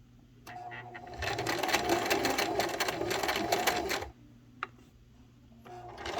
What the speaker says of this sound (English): So I'm done sewing the edge.